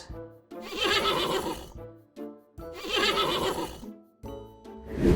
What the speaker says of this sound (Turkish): Bu bir at. At. At işte böyle kişner.